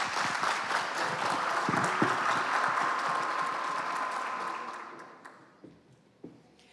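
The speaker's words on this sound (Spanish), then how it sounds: "yo le daría un aplauso a Rodrigo por sus contestaciones" Audience applause at a conference stage event, a dense steady clapping that holds for about five seconds and then thins out into a few scattered claps.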